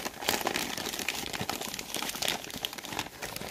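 Crinkling and tearing paper packaging from a My Little Pony toy unboxing, close and continuous rustling with sharp crunches and rips, heard alone.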